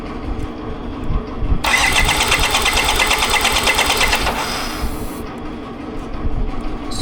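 An old fuel injector on a BMW K75RT motorcycle being tested, giving a loud, steady close-up hiss or spray for a few seconds over a constant mechanical hum, then cutting off.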